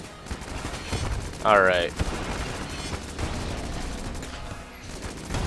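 Heck Blaster weapon fire in the video game Bullet Rush rattles out in rapid, repeated bursts that carry on steadily, with someone briefly talking over the shooting.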